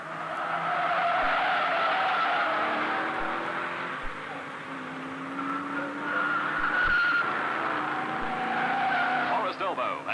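Holden race cars on a circuit skid with long tire squeals over a continuous roar of engines, heard from a distance with a few faint thumps.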